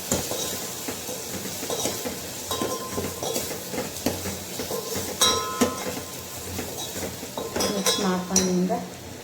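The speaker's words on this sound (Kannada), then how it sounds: "ಈಗ ಚೆನ್ನಾಗಿ ಮಿಕ್ಸ್ ಮಾಡ್ಕೊಳ್ಳಿ." Spoon clinking against a metal pot as wedding-style sambar with sambar powder and salt is stirred, with scattered close metallic taps and scrapes over a soft background sizzle.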